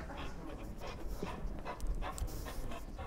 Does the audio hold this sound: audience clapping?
no